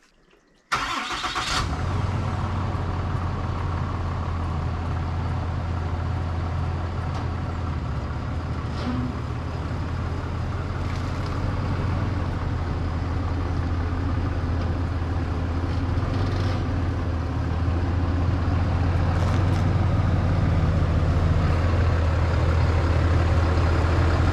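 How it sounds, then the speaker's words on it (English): A 2022 Limited pickup truck starts with a sharp burst, then settles into a steady, loud low idle and drive rumble that keeps going as the truck is moved close by, with no talking. "We're gonna move the truck around so I can have a little bit more light."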